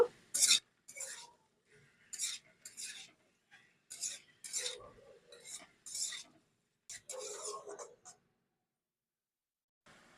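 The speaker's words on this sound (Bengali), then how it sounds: "কেটে ধুয়ে রাখা ভুলগুলো আমি এর মধ্যে দিয়ে দেবো সবকিছু খুব ভালো করে মিক্সড করে নেব" Cut and washed ingredients mixed by hand in a bowl give close, irregular bursts of wet rustling and soft clinks, each lasting about a second, separated by short pauses.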